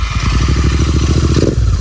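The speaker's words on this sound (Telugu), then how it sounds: "ఈ సౌండ్ అయితే చూద్దాం, జీటీ సౌండ్." A GT650 motorcycle engine running close by, a loud rhythmic low throb that swells into a brief rev before settling.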